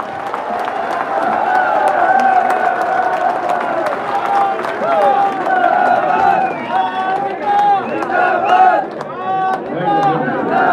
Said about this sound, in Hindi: अब मैं निवेदन करूंगा आपकी जोरदार तालियों के बीच रिछपाल सिंह जी मिर्जा साहब जी।